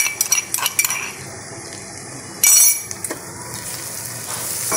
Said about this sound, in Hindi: तो अब हम इसमें डाल देते हैं कुटा हुआ अदरक और लहसुन